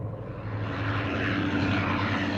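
A WWII-era propeller plane climbing to 4,000 feet during target-towing and test-flying duty, its engine a loud, steady droning roar that swells slightly and holds throughout, with no voices.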